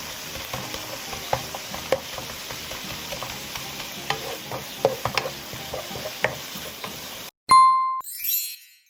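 Pork and leeks frying in a pan as a spatula stirs them, close crackling sizzle with frequent clinks and scrapes, then a sudden break and a bright metallic ding at the end.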